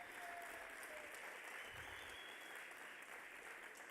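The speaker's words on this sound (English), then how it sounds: "I join the host by welcoming with a huge round of applause our friends from South Africa." Crowd applause welcoming the South African team at a blind cricket T20 match against India, a faint, continuous patter of clapping heard from a distance, unchanging across the whole stretch.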